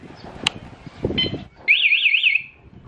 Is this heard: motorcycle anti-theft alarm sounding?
yes